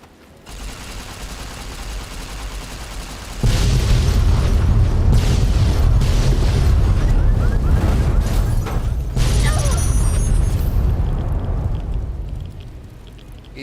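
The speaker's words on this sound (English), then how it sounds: "Is it done exploding?" Explosions boom in the video game Fallout, a quiet lead-in giving way to a heavy sustained roar of blasts and rumbling debris that slowly fades, loud and close with a faint voice underneath.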